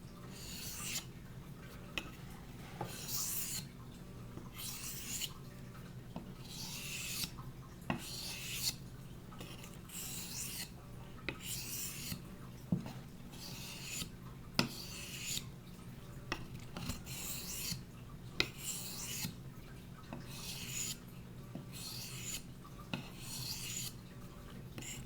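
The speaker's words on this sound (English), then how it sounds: "now we're up to my Japanese Waterstone 1200 grit." A Condor Bushlore knife blade drawn across a Japanese 1200-grit waterstone while the edge is ground to a Scandi profile: even, repeated rasping strokes in a slow steady rhythm, quiet and close with small clinks, no talking.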